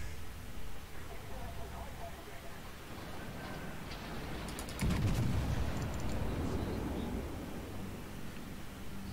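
Naval artillery booms in the game World of Warships, with a heavy shot rolling out midway over a steady background of engine and sea noise while someone talks.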